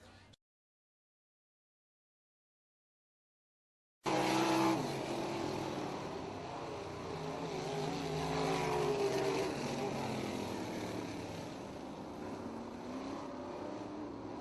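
360 sprint race cars run on a warm-up track for a second qualifying heat. The roar of their engines starts abruptly after a short silence and then holds as a loud, continuous, slightly wavering drone.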